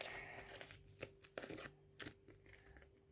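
A small plastic bag is handled up close, giving several sharp crinkles and rustles in short bursts against a quiet background with a faint steady hum.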